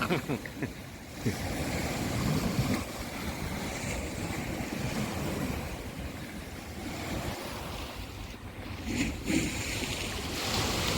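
A tidal bore on the river at Uttarpara, on the Jyeshtha new moon, rushes past as a broad, continuous roar of water mixed with gusty wind buffeting the microphone.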